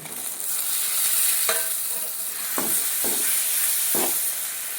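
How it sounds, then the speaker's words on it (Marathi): Finely chopped tomato frying in a hot pan while cooking sambar, a continuous bright sizzle with several distinct scraping strokes of a spatula stirring at irregular intervals, close and clear with no talk. "याच्यामध्ये टाकणार आहे बारीक कापलेला टोमॅटो"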